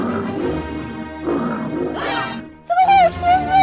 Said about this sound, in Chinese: 怎么会有狮子呀？